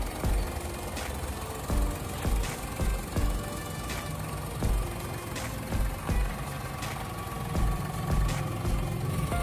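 A 2007 Daihatsu Xenia LE Family VVT-i idles steadily at close range, its engine giving a continuous low rumble with slight periodic surges and a faint knock in the rhythm.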